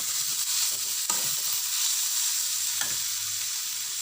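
Gima greens and eggplant stir-fried in a pan, a steady close sizzle with scraping spatula strokes and a couple of sharper clatters against the pan.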